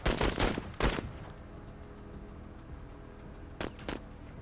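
Squad opening fire in the video game MENACE, heard as a few sharp, loud gunshot bursts at the start, then a quieter stretch of battle ambience before two more brief shots near the end.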